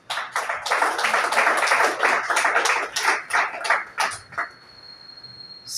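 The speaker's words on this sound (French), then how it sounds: "Et je vous demande de l'applaudir." Audience at the launch of the Vive Haïti Livres book festival applauding, a dense burst of clapping that swells, then thins into scattered claps and fades out.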